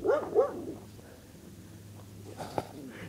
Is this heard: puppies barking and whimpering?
yes